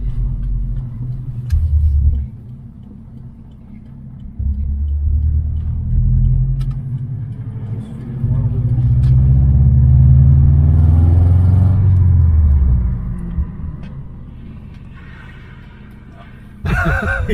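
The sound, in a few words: Subaru STI car accelerating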